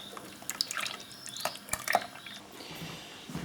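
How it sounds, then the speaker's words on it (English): Quince juice poured into a big jug, a wet splashing, dripping trickle with a few louder plops, close and continuous for a few seconds before easing off. "I'm now going to measure the juice into this big jug."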